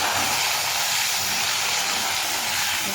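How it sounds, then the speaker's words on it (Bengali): Potatoes sizzle and fry in hot oil in a pan while fish curry is being prepared, giving a steady, dense hiss that holds evenly throughout with no voices. "এখন আমরা আলুটা ঢেলে দেব। আলুটা ভালো করে ভেজে নেব একটু।"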